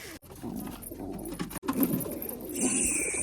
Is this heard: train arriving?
no